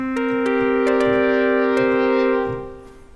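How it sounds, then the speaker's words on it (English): Yamaha EX5 synthesizer playing FM self-modulated sine-wave tones with fast attack and quick release, a sustained harmonic note marked by sharp repeated clicks at irregular intervals before fading out. "So now you can hear this clicking sound,"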